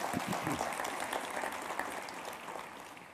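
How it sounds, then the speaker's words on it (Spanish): A church congregation applauds for the blessed King, steady, moderately distant clapping from a crowd lasting a few seconds, fairly quiet overall with a few voices mixed in. "Denle un aplauso al Rey bendito"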